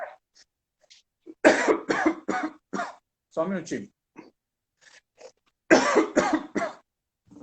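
Two bursts of repeated harsh coughing, close and loud, with a brief spoken phrase between them.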